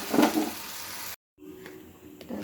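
Tomatoes and vegetables sizzle in a hot pan of spiced masala, a loud steady frying crackle that cuts out for a moment and then resumes more softly.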